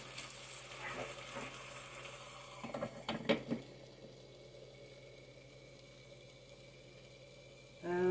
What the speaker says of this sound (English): And then you can just hear it sizzling along.